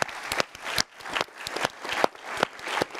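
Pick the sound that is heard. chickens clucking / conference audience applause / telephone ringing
conference audience applause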